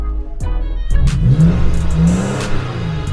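A 2021 Toyota Tacoma TRD Pro pickup engine revs up after a couple of sharp clicks, rising twice in pitch before settling into a low rumbling idle nearby.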